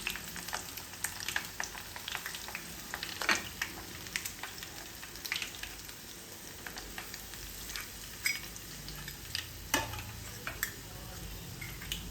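Garlic cloves frying in hot oil for a mango pickle, giving a soft, crackling sizzle with scattered light clicks and utensil taps, fairly quiet and close, with no talking.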